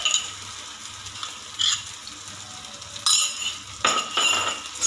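Chilli paste and ginger garlic paste frying in a pan for rajma curry, a steady soft sizzle with a few brief louder bursts of stirring and utensil clinks.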